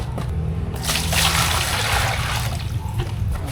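Water runs and splashes steadily over a dirty motorcycle grab bar bracket from a Burgman Street scooter, a close continuous trickling and spattering that swells briefly louder, with no talking.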